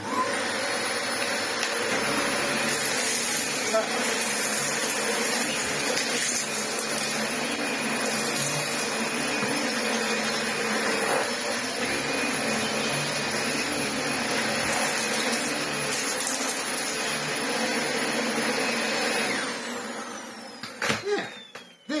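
Dyson DC25 upright vacuum cleaner running after servicing, a loud, steady motor whine with airflow roar held close for about twenty seconds, then spinning down with a few clunks at the end.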